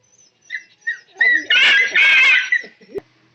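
A dog whimpers and yips in short, close, high-pitched bursts that swell into a longer whining cry, then end with a sharp thump.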